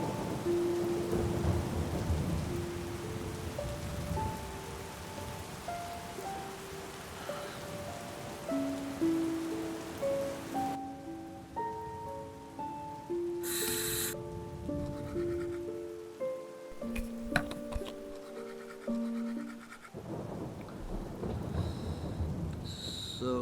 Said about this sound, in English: it's another rainy day